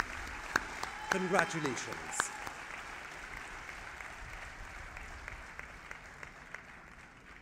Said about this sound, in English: a lusty round of applause for this gentleman